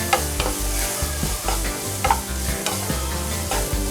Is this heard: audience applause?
no